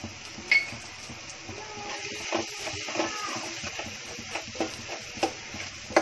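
Dried prawns fry with turmeric and red chili powder in a pan, giving a soft, steady sizzle broken by light stirring scrapes and a few small clinks, quiet and close with no talk.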